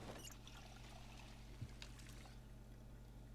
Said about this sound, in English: Fill water bottle.